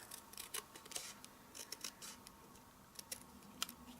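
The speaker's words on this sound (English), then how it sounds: "With one of them, I'm going to cut it in half" Scissors snipping a paper lime slice in half for a lemon zest easel card, with a series of quiet, crisp, close cuts and small rustles at an uneven pace.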